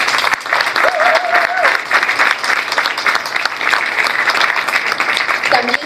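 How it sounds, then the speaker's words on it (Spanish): An audience at a book presentation applauds loudly, a dense, steady clatter of many hands clapping that carries on throughout with a few brief vocal sounds mixed in. "le brindamos un fuerte aplauso"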